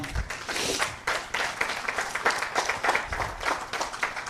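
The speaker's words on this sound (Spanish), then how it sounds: "Den un aplauso al Señor." A church congregation claps together during a Spanish-language Christology class, dense, steady applause with a few louder individual claps throughout.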